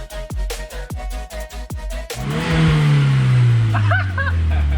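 A Volkswagen MK6 Golf R engine with an Integrated Engineering Stage 1+ tune pulses through a few heavy revs, then roars into strong acceleration, its pitch climbing and sweeping as speed builds, loud and close.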